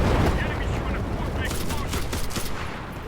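Dense gunfire and rapid bursts crackle continuously in the WW2 shooter Enlisted, loud and close, with a voice faintly under the barrage.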